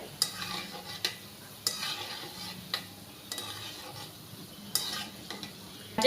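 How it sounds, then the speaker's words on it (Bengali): Gulab jamun made from wheat flour fry in oil while being turned, giving a soft steady sizzle punctuated by regular, distinct utensil strokes against the pan. "ঘুরিয়ে ঘুরিয়ে ভেজে নেব লাল লাল করে।"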